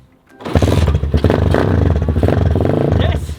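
A motorcycle engine fires up and revs loudly close by, a harsh rattling growl that holds steady for a few seconds.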